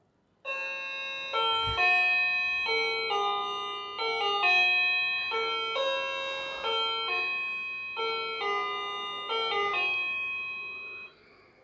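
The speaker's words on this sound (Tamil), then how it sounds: "காலிங் பெல்லோட சுவிட்ச் ப்ளஸ் வந்து காலிங் பெல் 2த்தையுமே நம்ம வந்து ஃபிக்ஸ் பண்ணியாச்சு" Electric calling bell on a freshly installed switch rings in a repeating melodic ding-dong chime pattern, about ten seconds of steady tonal notes sounding alone and close.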